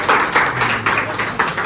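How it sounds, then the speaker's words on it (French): A small audience claps briefly after a lecture presentation, a short burst of uneven hand claps with a few rhythmic pulses, close and moderately loud, with no talking. "Très bien, on applaudit."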